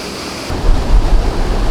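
Water from a stream spilling over the edge of the I & M Canal near the Lemont quarries, a loud broad rushing roar that thickens partway through, mixed with low wind rumble.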